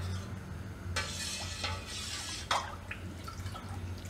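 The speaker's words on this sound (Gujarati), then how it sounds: "વચ્ચે વચ્ચે આપણે ચમચો આ રીતે ફેરવતો રહેવાનો એટલે તળિયા ઉપર ચોટે નહીં।" A spoon stirs milk heating in a pot on the stove, with scraping and swishing strokes in short bursts and a faint drip or clink, against a steady low hum and no talking.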